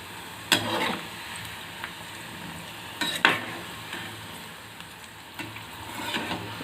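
Ragi pakodas sizzle softly in hot oil while being turned, with a few sharp clattering scrapes of the spoon against the pan, three main bursts spread over a steady low frying hiss.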